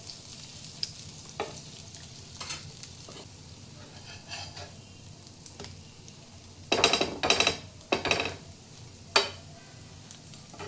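Butter sizzles softly on a dosa pan as cut vada pav buns toast, a quiet steady hiss broken by a few louder bursts of crackling and scraping near the end.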